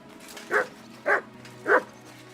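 In the video game Kingdom Come Deliverance 2, a dog gives three short, evenly spaced barks at moderate distance over a quiet background hum.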